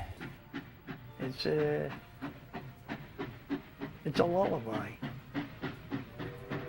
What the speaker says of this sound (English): That steam whistle and the chugging of the locomotive